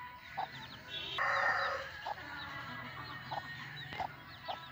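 Farmyard chickens give short, repeated clucks at a moderate distance, and a rooster breaks in with one louder, drawn-out crow early on, then the clucking resumes at irregular intervals.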